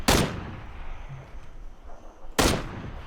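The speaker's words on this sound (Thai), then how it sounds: "พวกไหนยิงผมวะ" Enemy gunfire in a video game, two loud, sharp shots about two seconds apart, close and punchy, with quiet ambience between them.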